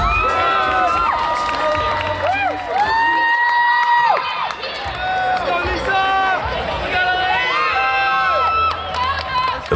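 A large crowd whoops, shouts and cheers at the Red Bull Rancher Strong fitness race in Fort Worth, Texas, with many excited voices rising and falling nonstop, loud and close, with a brief lull midway.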